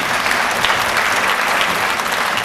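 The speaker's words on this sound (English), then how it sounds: "Please give him a round of applause." An audience applauds a congressman at a career and technical education symposium, a dense steady wash of many hands clapping from a crowd throughout.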